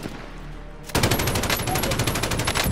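Rapid automatic gunfire from Call of Duty: Modern Warfare erupts after a quiet lead-in, a loud sustained burst of closely spaced shots that runs to the end.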